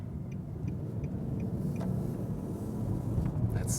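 A 3.7-litre V6 in an Infiniti QX70 pulls away from a traffic light as a steady low rumble from inside the cabin, with faint ticking beeps above it.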